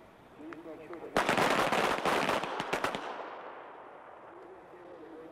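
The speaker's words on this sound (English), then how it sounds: "you'll have 3 seconds to draw your weapon, fire 2 shots, and return the weapon to the holster" Pistol shots crack on a police firing range, a rapid cluster of loud sharp reports in about two seconds, echoing briefly before fading into quiet background with faint voices.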